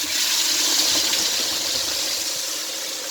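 Blended tomato poured into hot oil for a native stew (Omi Obè), a steady broad hiss and sizzle that stays fairly even and fades slightly over a few seconds, with no talk.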